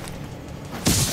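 Grenade blast in The Division game set in New York, a sudden loud broadband burst arriving near the end after a stretch of low background rumble, close and briefly sustained.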